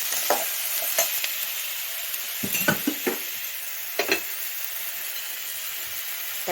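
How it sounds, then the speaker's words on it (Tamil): Tomatoes and onions sautéing with a little salt in a pan, a soft steady sizzle with a few scattered spatula stirs and scrapes, close and alone with no talk. "இப்போ வந்து தக்காளி வந்து நல்லா வதங்கட்டும்."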